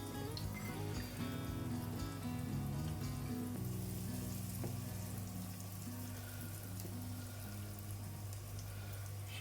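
Fishcakes sizzle in a frying pan, a steady, close hiss of hot oil running unbroken throughout with faint crackles and no talking.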